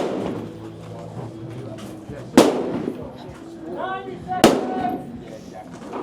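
Two sharp rifle shots ring out about two seconds apart from the firing line at a women's elite shooting competition stage in Arizona, each a loud crack standing out over steady crowd noise and talk.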